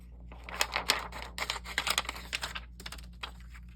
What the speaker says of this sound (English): I'm going to cut this acetate.